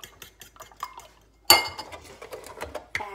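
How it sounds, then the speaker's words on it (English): Eggs being stirred in a bowl with a utensil: a rapid run of light clinks, then a sharp knock against the bowl and a second brisk, uneven spell of clattering strokes, close and clear. "Stir."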